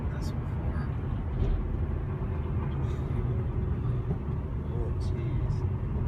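Semi-truck with failed brakes rolling into a runaway ramp, a continuous low rumble of heavy engine and road noise heard from a distance, with faint higher clatters scattered throughout.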